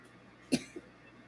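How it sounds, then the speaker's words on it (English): A single sharp cough, fairly close, followed by a softer short throat sound, over quiet room background. "I'm so sick of coughing"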